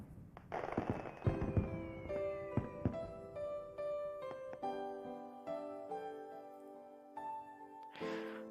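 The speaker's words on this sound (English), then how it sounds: "A barrage of fireworks shoots up from the distant coast" A barrage of fireworks launched over a distant coast in the Making Lovers visual novel, with repeated booming bursts and crackles overlapping a sustained melodic music score.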